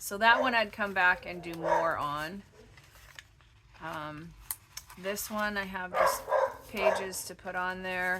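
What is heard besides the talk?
dog barking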